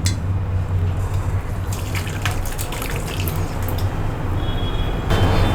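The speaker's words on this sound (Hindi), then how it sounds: "अब मैं इसमें छान लूँगी इसे।" Cooked beetroot soup is strained into a bowl with a steady, close trickle and pour of liquid, flecked with small drips and splashes throughout.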